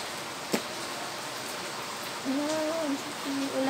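Steady rain on a hot day makes a constant soft hiss throughout, with a brief sharp tap early on and faint tonal voice-like sounds in the background toward the end.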